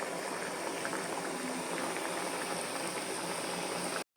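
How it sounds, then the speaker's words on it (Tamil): Cream bun dough fries in hot oil with a steady, soft bubbling sizzle that holds evenly throughout, then cuts out abruptly just before the end. "இப்போ எண்ணெயில் செஞ்சு வச்சுருக்கத போட்டு பொரிச்சு எடுத்துக்கணும்"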